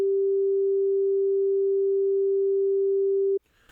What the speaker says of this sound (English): So I'm going to play one tone.